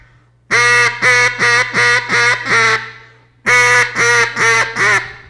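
A duck call used for waterfowl hunting imitates ducks with a run of six loud, nasal quacks, a pause, then four more, all close and over a low steady hum.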